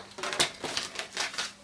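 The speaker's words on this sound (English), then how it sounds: "I'm going to grab my baby blue cardstock, and I'm going to cut it." Baby blue cardstock being cut for a standard card, with a series of short, crisp snips or trimmer strokes in a steady rhythm, close and fairly quiet, no talking.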